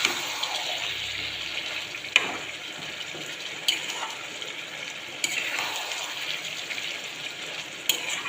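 Chicken curry being sautéed and stirred in a pan on a cold day, a steady soft sizzle with occasional sharp scrapes of the spoon against the pan, close and continuous without talk.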